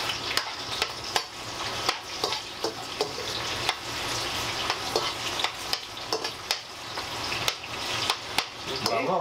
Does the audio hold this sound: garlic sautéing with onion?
yes